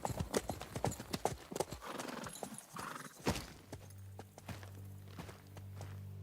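In the video game Kingdom Come: Deliverance II, hooves clatter rapidly past with a horse whinnying, followed by a low rumbling hum as the galloping fades.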